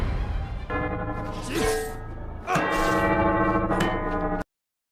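A large spinning bell rings with long, shimmering metallic tones that swell and overlap, struck a few times before cutting off abruptly.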